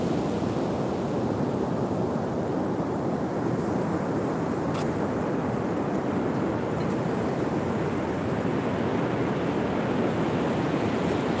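On Kellogg Beach in Crescent City, California, ocean waves make a constant broad roar with some wind noise, unbroken and even in level throughout, with no voices.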